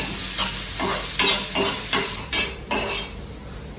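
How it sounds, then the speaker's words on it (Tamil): Onions fry in a pan for tomato chutney, a loud close sizzle punctuated by a regular rhythm of spoon strokes scraping and tapping the pan, with no voices. "ஸோ வெங்காயம் வந்து நல்லா வதங்கணும்."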